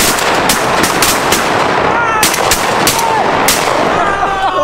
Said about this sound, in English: I shot all 3 shots at that hen.